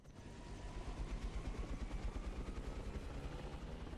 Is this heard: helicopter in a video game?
yes